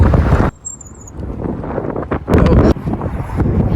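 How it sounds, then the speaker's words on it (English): Wind buffeting the microphone while riding a heavy electric scooter outdoors, a loud rumbling roar that drops briefly, then surges back in strong gusts. "Oh my god, the wind."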